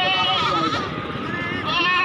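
A goat bleats at a goat market, loud and close, in wavering drawn-out cries that rise and fall across the stretch, with market murmur behind.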